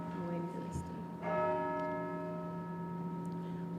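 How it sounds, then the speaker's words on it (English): Church bells ring steadily in the background, sustained overlapping tones with a fresh strike partway through and long ringing decay, heard from a meeting room with a low room hum. "We'll just pause for a minute while the bells ring."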